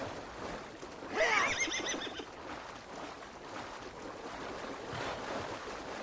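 Horse neighing in Assassin's Creed Valhalla, a clear whinny early on over faint hoofbeats and an ambient water-like wash, fairly quiet with no talk.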